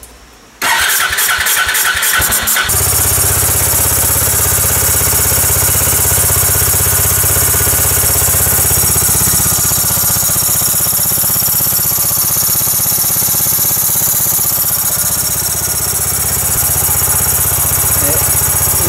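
A Suzuki Skywave 400 scooter engine cranks briefly with rapid stuttering pulses, then catches and runs at a loud, steady idle close by, humming on without a break after work on its throttle body.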